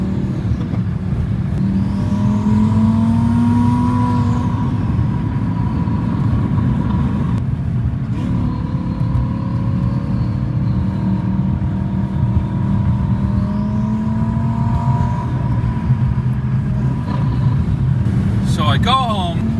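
A 1,000 hp DDE Tireslayer car cruising, its steady engine drone rising and falling with revs throughout, heard close from a following vehicle with no talk.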